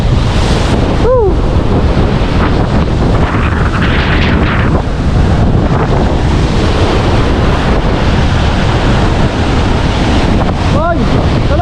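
Strong, steady wind roar and crashing ocean surf fill the air during a storm at sea on a fishing trip, loud and continuous with brief whistling tones now and then.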